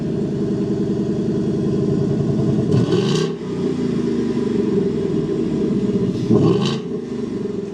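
A deep, burbling 5.0 V8 engine of a 2024 Ford Mustang GT idles loudly up close, then revs sharply twice, each rev rising and falling back to a lumpy rumble.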